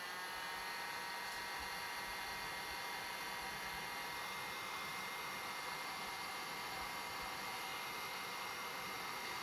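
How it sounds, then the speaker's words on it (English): Heat gun blowing hot air onto heat-shrink connectors on a pump wiring repair, a steady uninterrupted fan-driven whoosh, even in level from start to finish with no talk. "I've got a heat gun up here, which I'm going to heat each one up individually"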